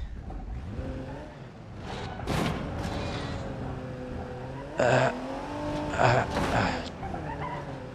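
A Jeep driving through a tunnel in BeamNG drones with a steady engine note that swells and revs, broken by a few sharp knocks and thumps.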